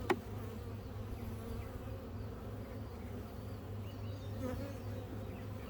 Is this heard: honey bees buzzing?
yes